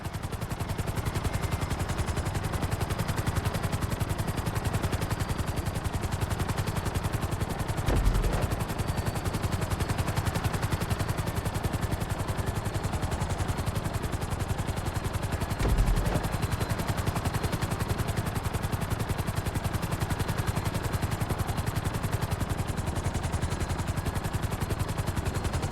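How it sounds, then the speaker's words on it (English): Helicopter flying in Grand Theft Auto V: a steady, dense rotor drone with constant engine roar holds unbroken throughout, loud and close, with two faint thumps along the way and no voices. "Bring the helicopter down gently onto the helipad."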